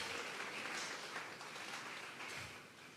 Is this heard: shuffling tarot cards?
no